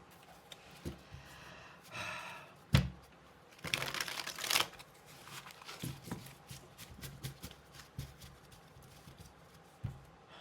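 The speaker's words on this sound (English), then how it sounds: "this will start shuffling a lot better when my legit deck gets here" A makeshift tarot card deck being shuffled, soft irregular riffles and slaps up close, with a louder flurry in the middle and scattered taps around it.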